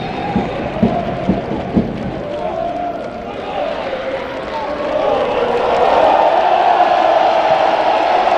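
Stadium crowd at a 2015 K-League Challenge football match against Daegu FC swells into rising cheers as a player urges them on, building from a murmur to a loud roar under a commentator's talk.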